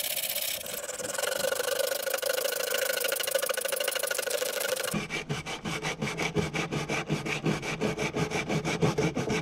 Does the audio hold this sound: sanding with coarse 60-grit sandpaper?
yes